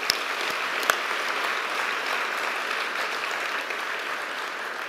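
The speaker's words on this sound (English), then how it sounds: "A round of applause for them, too." Steady applause from a seated audience fills a ceremony hall, a continuous dense patter of many hands with a couple of sharper claps near the start and no voices over it.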